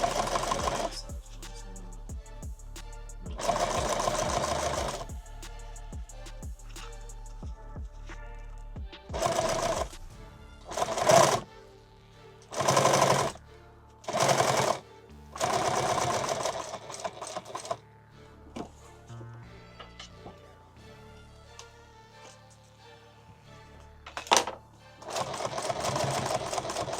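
A sewing machine stitches fabric while a canvas Vietnam-era pack is converted into a tool bag. It runs in short bursts of rapid whirring, with quiet pauses and small handling clicks between runs.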